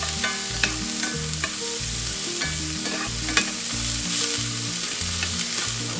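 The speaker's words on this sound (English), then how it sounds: "We'll fry it together with the bacon." Onions and bacon fry together in a pan for a bean and vegetable soup, giving a constant bright sizzle with occasional stirring clicks over a rhythmic low musical backing.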